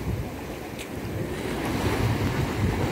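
Ocean waves wash over rocks along the shore, a steady, loud churning roar with heavy wind buffeting the microphone, building slightly toward the end with no voices.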